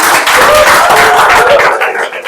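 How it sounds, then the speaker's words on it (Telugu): Loud, close applause from a group at a data science event, with clapping sustained throughout and a few voices mixed in. "గట్టే క్లాప్స్ కొట్టాలి"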